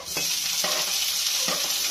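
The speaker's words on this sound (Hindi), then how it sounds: "लहसुन के साथ जाएगा थोड़ा सा हरी मिर्ची" Green chilies and garlic fry in hot mustard oil in a pan, a loud continuous close sizzle with a few short stirring scrapes, and nobody speaking.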